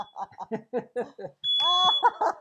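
A smoke alarm set off by a fog machine at a Halloween music release party beeps loudly and steadily near its end, after a run of choppy, rhythmic bursts that sound like talk and laughter.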